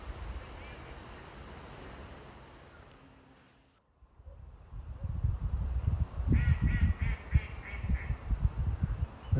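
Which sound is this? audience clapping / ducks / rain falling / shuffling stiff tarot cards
ducks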